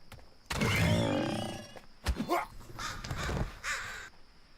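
Crows cawing as enemies turn into birds in a video game, a loud harsh burst of caws followed by a few more scattered calls and thuds, fairly close.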